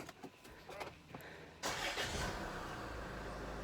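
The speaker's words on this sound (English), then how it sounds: "I'm just going to start the engine" A Range Rover Evoque engine is started after an oil change: a few clicks and a short starter crank, then the engine catches and settles into a steady close idle.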